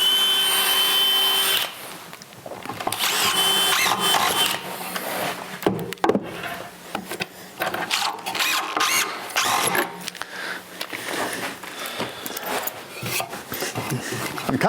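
Power drill driving screws into an indoor ladder being built, with short bursts of whirring and grinding between pauses and some background noise, close by.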